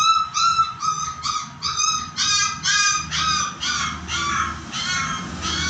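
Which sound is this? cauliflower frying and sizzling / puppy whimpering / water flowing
puppy whimpering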